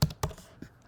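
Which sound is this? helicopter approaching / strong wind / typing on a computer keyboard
typing on a computer keyboard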